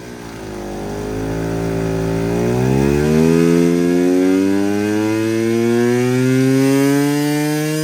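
A 2023 KTM motorcycle engine on a dyno rises from a low idle into a sustained, climbing rev that holds at high pitch, loud and close with no talking.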